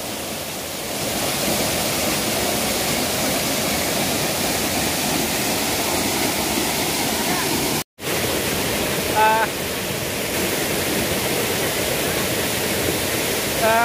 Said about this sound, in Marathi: आपण इगतपुरी जवळच असलेल्या या दुसऱ्या वॉटरफॉलवरती आलेलो आहोत